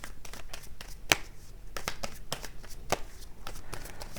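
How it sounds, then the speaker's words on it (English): Tarot cards get a hard riffle shuffle by hand, sharp papery bursts repeating in quick irregular rhythm, close and fairly loud throughout. "we do a last hard shuffle for Scorpio"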